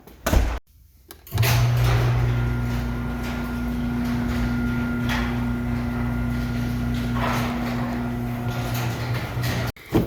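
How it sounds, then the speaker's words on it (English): A garage door motor starts after a short clunk and runs with a steady, droning hum for several seconds before cutting off abruptly. "garage door open."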